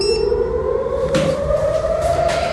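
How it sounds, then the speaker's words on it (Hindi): A wailing air raid siren in Israel during an Iranian missile attack holds a steady rising tone, loud and continuous, with faint background noise behind it. "सुन सकते हैं आप सायरन?"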